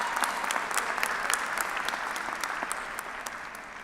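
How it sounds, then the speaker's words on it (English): Steady audience applause at a university commencement ceremony, dense and sustained hand clapping from a large crowd filling the hall throughout. "How about another round of applause for Noor?"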